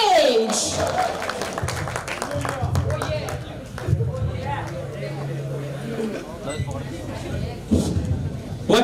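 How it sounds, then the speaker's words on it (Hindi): Applause and crowd noise rise at a grand seminar as a performer is called back to the stage, with a voice speaking over the clapping and a busy mix of cheering and chatter. "तो जोरदार तालियों से बुलाते हैं फिर से लोकी ऑन द स्टेज"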